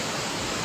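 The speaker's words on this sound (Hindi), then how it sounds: "इन तस्वीरों को देखिए, कैसे नदी का पानी अपने साथ सब कुछ बाहर ले जाने पर आमादा है।" A flooded river roars past riverside homes, a dense, steady wash of rushing water with no break, loud and close.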